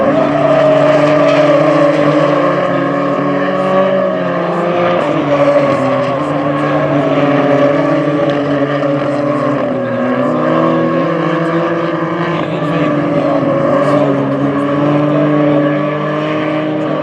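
Nitrocross race cars roaring past in a close battle, a continuous loud engine drone with shifting pitch as they accelerate and ease off, sustained throughout with no voices.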